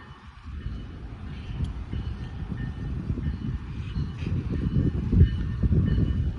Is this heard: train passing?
yes